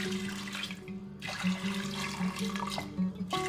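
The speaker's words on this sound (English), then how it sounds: "Drain the water, wash well and add to a pressure cooker." Water running and sloshing as soaked red cowpeas are drained and washed in a kitchen: a continuous close splashing and trickling with shifting gurgles, steady throughout and with no talk.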